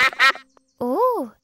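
A cartoon duck quacks in a German-dubbed Peppa Pig episode about a huge muddy puddle: two loud, nasal voiced quacks, then after a pause a longer drawn-out quack with a rising and falling pitch, close and clear.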